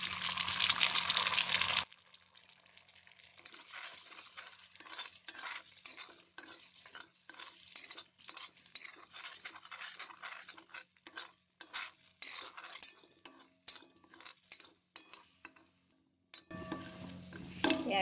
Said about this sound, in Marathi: हे अंड्याचं अशी फ्राय करून घ्यायची.